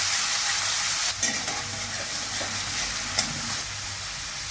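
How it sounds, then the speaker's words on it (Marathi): Steady hissing sizzle of ground chilli paste sautéing in hot oil over a low flame, close by, with a couple of brief stirring scrapes. "त्यामध्ये आपण वाटलेली मिरची टाकूया गॅस बारीक केला आहे परतून घेऊया"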